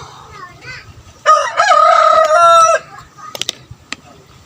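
A rooster crows once, loud and close, with a long drawn-out call at a homemade DIY chicken coop. Softer clucks and a few sharp calls from hens come before and after it.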